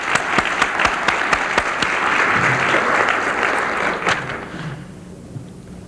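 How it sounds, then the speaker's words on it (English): An audience at a medical research meeting on AIDS gives a firm round of applause, dense clapping with a few distinct sharp claps up front, holding for about four seconds before it quickly dies away into room quiet. "another round of applause."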